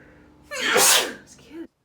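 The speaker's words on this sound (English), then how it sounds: "Why do I have to sneeze?" One sharp human sneeze indoors, close and loud, with a quick intake of breath and a burst, then a short vocal tail.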